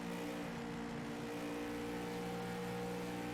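Race car engine in an ARCA series racing video game at Michigan, a steady high-revving drone with strong harmonic tones, continuous and fairly quiet with no talking.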